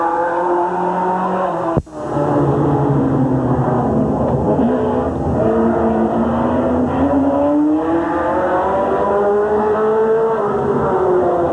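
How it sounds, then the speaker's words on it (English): Race cars at Midvale Speedway in 1986 roar past in a loud, continuous engine drone whose pitch rises and falls, briefly cut by a sharp dropout, with no talking. "What a car is that, Ronnie?"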